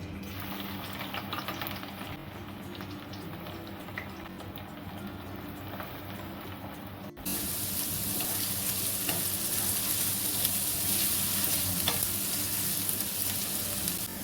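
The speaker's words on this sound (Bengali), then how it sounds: "তেলটা গরম হয়ে গেছে এখানে আমি দিয়ে দেবো পেঁয়াজ কুচি" Finely chopped onions drop into hot oil and fry with a dense, steady sizzle that swells louder midway and then holds at a constant hiss, close and continuous, with no voices.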